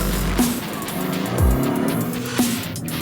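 A car fitted with steel brake discs accelerates hard on a test track run toward 80 mph, engine revving loud and close with rising gear-change sweeps and a brief tyre screech, no talking.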